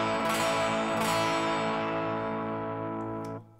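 One bright strummed acoustic guitar chord rings out loud and sustains, fading slowly before being cut short.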